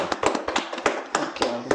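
A few people clap for a guest, the vice head of the student council at an Islamic boarding school, in a sparse, uneven patter of distinct close hand claps.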